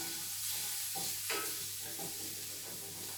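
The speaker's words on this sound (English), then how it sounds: "So I just need to stir this about for a few moments, just until you see that orange oil being released into the pan." Ingredients being stirred in a hot frying pan for eggs in purgatory, releasing orange oil, with a steady close sizzle and soft scraping strokes of the stirring, no voices.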